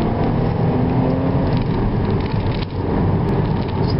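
A Vauxhall Insignia VXR pulls hard in third gear along a B road, its engine a steady, loud, continuous drone with dense rumble and no break for the full stretch.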